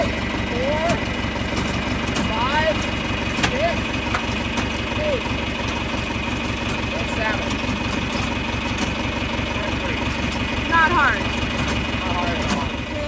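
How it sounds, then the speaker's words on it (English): A John Deere 3010 tractor engine idles steadily while spreading manure, a constant low mechanical drone throughout with a voice speaking briefly over it. "It is using the 3010 to spread the manure."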